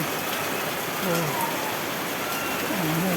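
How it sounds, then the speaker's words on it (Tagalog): Steady heavy rain hisses continuously, loud and close, with faint voices murmuring underneath. "Ayan lakas pa ng ulan."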